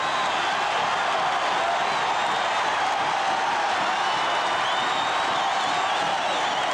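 Huge stadium crowd roaring at the 1979 USC at LSU college football game, a dense continuous loud wash of cheering and yelling without a break.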